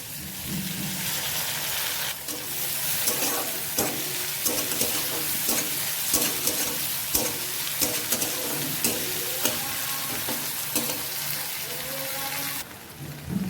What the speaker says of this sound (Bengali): পেঁয়াজটা লাল লাল হয়ে গেছে, এখন এটার মধ্যে আমি রসুন দিয়ে দিচ্ছি।